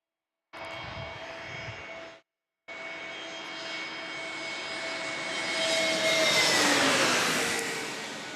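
An American Airlines jet at San Diego airport roars steadily with a high whine that swells louder as it passes close by, after a brief gap in the sound near the start.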